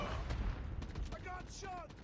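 Rapid gunfire bursts from a Call of Duty Mobile match, several sharp cracks crowding together, with short game voice lines sounding over the shooting.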